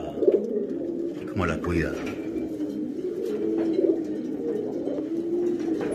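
Rock pigeons coo repeatedly in a loft, low soft throaty calls recurring through the clip, close and steady beneath a voice speaking over them.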